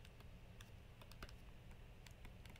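Quick keystrokes on a computer keyboard, faint and close, arriving in uneven bursts of sharp clicks over a quiet background hiss, with no voices.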